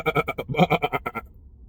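A person imitates a sheep's bleat with a vocal impression, a run of rapid wavering pulses held for about a second before stopping, close to the mic and fairly loud.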